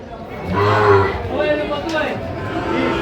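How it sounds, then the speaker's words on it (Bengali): A Sahiwal cow lets out a long, deep moo close by on a farm, followed by more lowing, with faint human chatter in the background. "নূর ভাই একটু গরুগুলো আমাদের দেখান"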